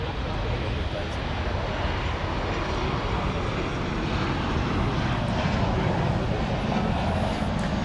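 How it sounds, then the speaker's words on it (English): A narrow-body airliner taking off at night at DFW Airport produces a steady, broad jet engine roar that stays loud and unbroken throughout and sounds fairly close. "they've been letting all the smaller narrow body aircraft take off in front of them."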